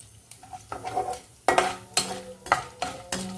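Asafoetida tempering being stirred into carrot chutney, with a series of scraping, clinking spoon-and-pot hits and brief bursts of sizzle, each stroke close and fairly loud, no voices.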